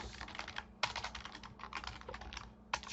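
Computer keyboard typed while writing a JavaScript program, including a Shift Enter press, heard as faint, rapid clicking keystrokes in short runs over a low steady hum.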